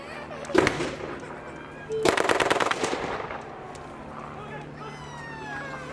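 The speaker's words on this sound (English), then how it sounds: "Grenade!" A sharp blast from a grenade at a World War II D-Day reenactment battle, followed two seconds later by a louder explosive burst that breaks into rapid gunfire rattling and fading, with crowd noise behind.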